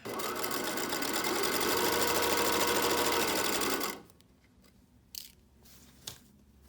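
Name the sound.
sewing machine stitching swimsuit binding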